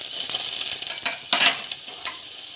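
Green chilies and cumin frying in peanut oil in a pan, a steady close sizzle with a few louder crackling bursts as the pan is stirred, no talking.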